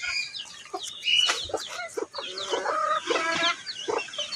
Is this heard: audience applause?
no